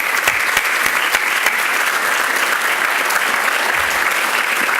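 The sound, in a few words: audience applause for award finalists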